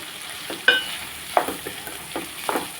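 Ivy gourd curry fries in a pan with a soft sizzle, broken by several sharp scraping clicks of a spoon stirring at an irregular rhythm, close up and without speech.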